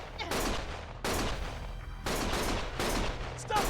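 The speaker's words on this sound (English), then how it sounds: "Stop shooting!" Gunfire in the video game Lost Judgment comes as loud, close bursts of rapid automatic shots, three or four sustained volleys separated by short gaps.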